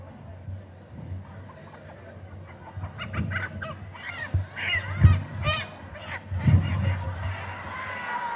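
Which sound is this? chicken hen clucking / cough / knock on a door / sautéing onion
chicken hen clucking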